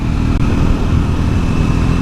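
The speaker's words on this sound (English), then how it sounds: "When you rev it out to the higher rev range, it's got that slight buzz to it," A Triumph Scrambler 400X single-cylinder engine revs high with a slight buzz, a steady, loud, close drone holding for two seconds without any talk.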